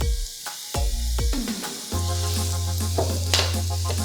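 Mushrooms sizzle as they cook down and soften in a pan for loaded sheet pan hash browns, a steady close frying hiss broken by clacks and scrapes of a utensil stirring them.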